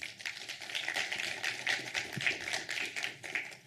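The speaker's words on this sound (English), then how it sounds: "And a round of applause to them," An audience at the Falling Walls Lab Pretoria 2022 event applauds the jury, producing moderate, steady clapping throughout that is heard alone without voices.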